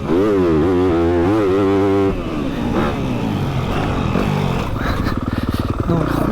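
A Yamaha 250 YZF motocross bike, tuned for a month, runs on a rutted, rough Grand Prix dirt track, its engine loud and close, holding a steady high pitch, then dropping into a rougher, fluttering throttle with revving toward the end.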